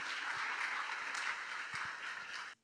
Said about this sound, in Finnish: Annetaan vielä aplodit Jukalle